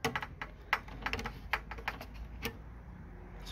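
A plastic tab on a Kenmore/Whirlpool washer part clicks into place during a repair, heard as a run of sharp, close, light clicks and taps in a quiet room.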